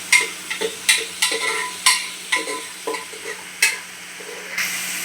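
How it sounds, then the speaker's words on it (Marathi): Onion and tomato frying in oil, with repeated brisk scraping stirs of a spoon against the pan over a gentle sizzle, heard close and clear with no one talking. "टमॅटोला पण आपल्याला मस्त असं शिजवून घ्यायचं तेलावरती."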